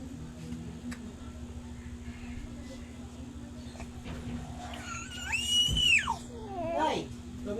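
A young child lets out a high, rising scream at a family home, short and piercing over a quiet background with a steady electrical hum, followed by a second briefer cry.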